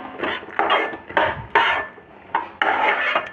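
Peanuts being stirred into hot melted jaggery for chikki, a series of six or seven scraping, rasping strokes of a spoon against the pan, close and fairly loud, with short pauses between them.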